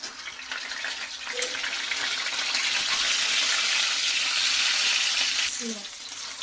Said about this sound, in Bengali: তেলের ওপরে একটুখানি নুন দিয়ে ডিমগুলো আমি একটু ভালোভাবে ভেজে নেব।